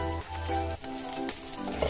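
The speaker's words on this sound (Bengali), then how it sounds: "দেখুন লাল লাল হয়ে গেছে, ভাজা হয়ে গেছে" Butter garlic chicken sizzles in a frying pan, a continuous close crackle and hiss of hot fat with no talking over it.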